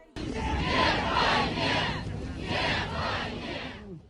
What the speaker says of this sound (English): a large crowd of Navalny supporters defied authorities and risked arrest to pay their last respects, clapping and chanting